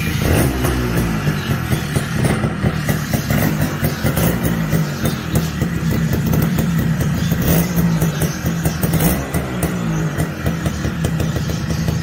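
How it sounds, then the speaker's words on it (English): A TVS Suzuki motorcycle engine runs steadily and loudly close by, a continuous throbbing two-stroke idle with rapid beats and no talk over it. "So for this, just start the bike."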